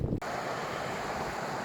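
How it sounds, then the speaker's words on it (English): The South Fork of the Kern River near Kennedy Meadows flows in a steady broadband rush, close and continuous after a brief lull at the start, with some wind noise on the microphone. "This is the South Fork of the Kern River"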